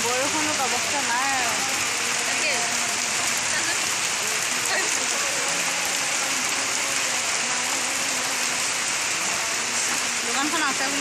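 Steady rain falling, a dense continuous hiss and patter that fills the whole stretch without letting up, fairly loud and close.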